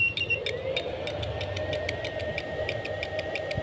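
A relay on an inverter-powered fish shocker clicks in a fast, evenly spaced train of sharp ticks over a steady electrical hum, close and fairly loud, with no talk.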